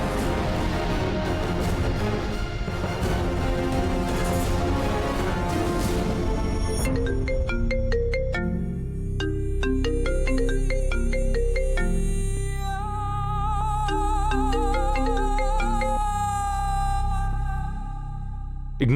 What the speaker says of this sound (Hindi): अब मैं उसे कॉल कर रहा हूं तो रिसीव नहीं कर रही है।